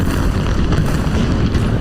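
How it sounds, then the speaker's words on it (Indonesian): Deep, loud rumbling from a jet airstrike on a hillside near Nabatiyah in southern Lebanon rolls on continuously, a heavy low-frequency roar filling the whole stretch without breaks. "Rekaman video menunjukkan hantaman serangan di lereng bukit dengan kilatan ledakan dan suara dengung yang berputar-putar di area sekitarnya"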